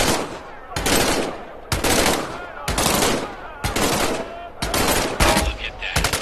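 M1A rifle fired in the VR game Medal of Honor: Above and Beyond, with six loud close shots spaced about a second apart, each followed by a short ringing decay.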